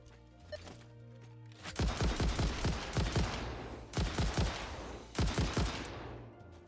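Gunfire in the game Satisfactory fired in three rapid bursts of loud, sharp shots, with steady humming machine-like tones in between.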